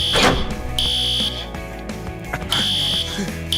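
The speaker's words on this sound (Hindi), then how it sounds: "आज सुबह मैंने फायर डिपार्टमेंट में बात की थी और उन्होंने इस अलार्म को डीएक्टिवेट कर दिया है।" A building fire alarm sounds loudly in repeated piercing electronic tones, each burst about a second long with short gaps between them, close and dominant with no talk over it.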